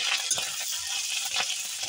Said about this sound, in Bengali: এবার ফোড়নের জন্যে 1/2 চামচের কম গোটা জিরে দিয়ে দিলাম আর 1/2 চামচ পরিমাণ আদা ঘষে দিয়ে দিলাম।